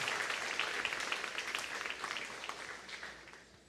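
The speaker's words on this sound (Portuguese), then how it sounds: "Então dê um forte aplauso ao Senhor." A church congregation gives dense, hissing applause, many hands clapping at once from across the room, fairly faint and gradually fading away.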